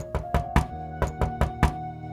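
Seven sharp knocks on a bedroom door in two quick groups of four and three, close and distinct, with nothing else heard.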